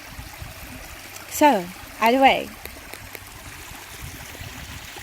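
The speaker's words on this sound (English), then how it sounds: "I'll give you one more view of the beautiful creek" A creek flows in a continuous soft trickle and gurgle, steady and fairly faint beneath a person briefly talking.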